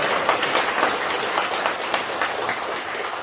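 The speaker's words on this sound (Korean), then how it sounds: "뜨거운 박수 부탁드리겠습니다" A Catholic mass audience claps together, a dense, steady wash of many hands applauding in an indoor hall, sustained and fairly loud with no voice over it.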